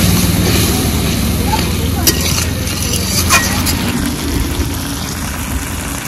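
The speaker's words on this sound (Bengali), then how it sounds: "এবার ভালো করে কষে নেব।" Spice paste being stir-fried in oil in a home kitchen for a jackfruit and prawn curry, a steady loud sizzle with scraping stirs throughout, with no talk over it.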